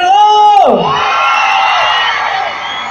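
An audience on the left side of a live show yells together, a loud crowd shout that rises sharply at first and then holds as a sustained roar for a couple of seconds.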